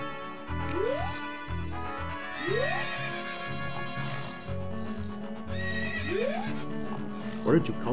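A horse in a video game neighs repeatedly, its rising whinnies recurring every couple of seconds over a steady game soundtrack, with a voice talking underneath.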